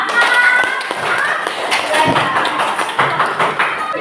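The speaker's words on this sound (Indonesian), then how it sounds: "Semuanya, mari tepuk tangan untuk kita semua." Schoolchildren at an elementary school clap their hands together in a classroom, a dense patter of claps under children's talking and chatter.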